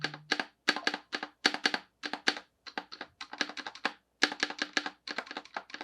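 Keys on a modded Razer BlackWidow V4 75% keyboard clack in quick, close bursts of typing, with short pauses between runs of crisp presses and no talking.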